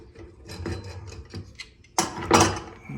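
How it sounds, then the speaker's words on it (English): A wrench snugs a bathtub drain fitting with a run of small metallic clicks and scrapes, then two louder clunks and rattles near the end, close and without talk. "now I'm just gonna snug with a wrench"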